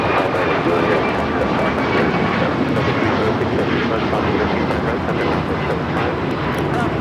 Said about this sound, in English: 2733 taking off to Houston Intercontinental on a MAX 9